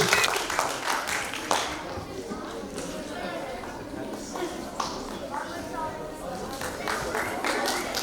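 Audience applause breaks out at a theatre performance in Marmaris as the district governor is honoured, a dense steady wash of clapping lasting throughout with a crowd murmur beneath and some voices mixed in.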